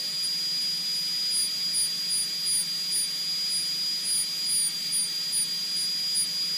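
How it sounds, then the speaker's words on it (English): A small 5-gallon air compressor runs steadily, giving a continuous, even hiss with a thin high whine over it, close and unbroken, with no talk. "Compressor cycles a lot more often, needless to say, when you are doing this."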